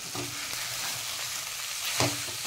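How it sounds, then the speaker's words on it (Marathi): Spiced potato patty filling with chopped coriander stir-fried in a pan over a high flame, giving a steady, close sizzle with scraping stirs throughout and no voices. "थोडंसं गॅसची फ्लेम मोठी ठेवून चांगलं असं परतून घ्यायचं"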